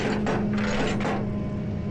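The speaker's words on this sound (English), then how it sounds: "And then just go down with that red handle, and you'll hear it click in and engage." A red-handled ratchet mechanism clicking into place and engaging on a cable tensioner, with a few quick, close mechanical clicks early on followed by a steady low hum.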